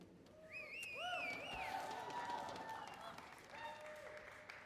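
Audience applause at a barista championship semi-final, steady clapping from a crowd that carries under a voice as she talks over it throughout.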